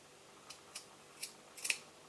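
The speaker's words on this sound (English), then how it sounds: "I'm going to take my scissors and cut off the excess" Scissors snip through excess synthetic macrame cord on a micro macrame bracelet, several crisp close cuts, the last few in quick succession, heard alone in a quiet room.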